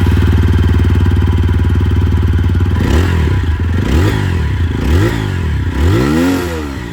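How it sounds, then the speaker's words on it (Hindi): TVS Apache RTR 160 4V motorcycle engine idling steadily with a low, even exhaust thrum, then revved in several rising and falling blips, loud and close with no talk. "इसकी जो आवाज़ है क्योंकि हम लोग इंजन के बारे में बात कर रहे थे तो ये भी आप लोग सुन लीजिए"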